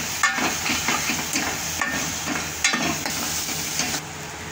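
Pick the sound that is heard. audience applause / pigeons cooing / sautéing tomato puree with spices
sautéing tomato puree with spices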